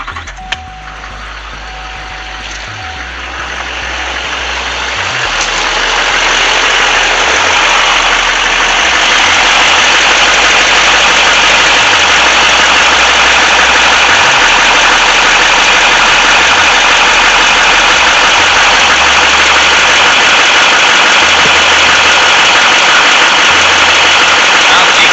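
A Duramax LMM diesel truck engine, just back from a fuel filter change, cranks and fires, then settles into a loud, steady running drone with a rough low rumble, heard up close and alone.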